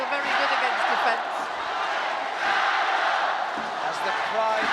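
Arena crowd roaring and chanting at a World Team Championships table tennis final, China versus Japan, as a women's match is played, a dense steady swell of many voices with a commentator talking over it.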